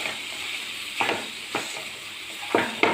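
A spoon stirring a thick dates mixture flavoured with ground cardamom in a pan, giving a handful of scraping strokes over a soft steady sizzle, close and clear, with no talking.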